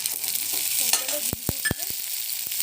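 Cashews and raisins fry in a pan over a low gas flame, a soft steady sizzle with several sharp spoon scrapes and clinks as they are stirred, close and alone.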